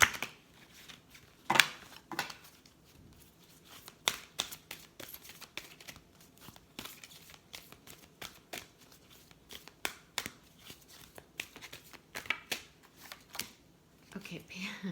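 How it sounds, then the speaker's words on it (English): Oracle cards from a Sacred Earth deck being shuffled by hand, giving repeated crisp riffling and flicking bursts, close and fairly quiet, with a voice speaking now and then. "I'm just going to give these another shuffle."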